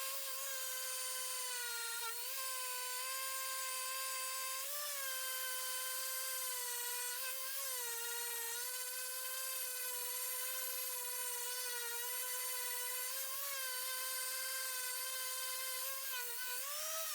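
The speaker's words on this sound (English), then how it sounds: "I've got a lot of sanding to do" An electric sander works a wooden bathroom counter, giving a steady, close motor whine that holds its pitch with brief dips every few seconds as pressure shifts.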